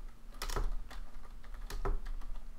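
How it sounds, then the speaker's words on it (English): Typing on a computer keyboard during a Terraria game session, a few quick clusters of clicky keystrokes in two short bursts, close and moderately quiet with no talking. "No more typing."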